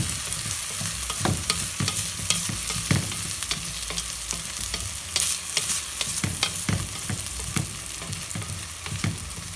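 Basmati rice being pushed around and heaped into a pyramid in a pot, with a steady run of scraping, grainy stirring strokes close by and no voices.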